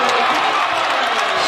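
A college basketball arena crowd at a California Baptist vs Utah Valley game roars steadily after a made three-pointer, a dense, sustained wash of cheering with a commentator's voice running over it.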